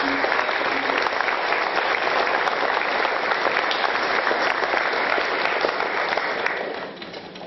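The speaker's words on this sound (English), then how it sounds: "If we could give her a round of applause." Steady, loud applause from a crowd at a high school scholarship awards ceremony, sustained throughout and tapering off slightly at the very end.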